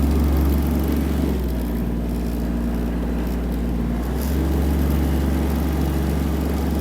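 A Kubota GL-261 tractor engine idling, a loud, steady low rumble with a constant hum that stays close and even throughout, with no voices over it.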